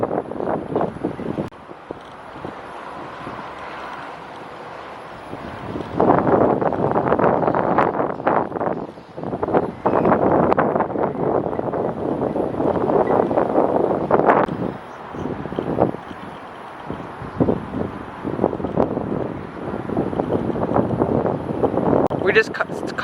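Heavy wind buffets the microphone outdoors at a theme park construction site in loud rumbling gusts throughout, nearly drowning out a voice talking underneath.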